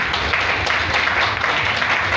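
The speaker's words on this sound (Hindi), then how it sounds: "एक बार ताली होनी चाहिए जबरदस्त" Seminar audience at a Model Group town presentation applauding together, a dense, steady wash of clapping that runs loud and continuous throughout.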